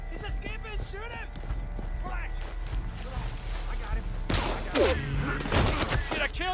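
Gunfire from Red Dead Redemption 2, a burst of sharp shots near the end cutting over galloping hooves, shouting and a busy mix of game music and effects, with voices talking throughout.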